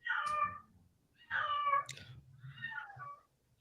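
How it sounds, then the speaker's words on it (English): A cat meows three times in a row, close and fairly loud, with drawn-out, complaining cries separated by short pauses and no talking. "Is that your damn cat?"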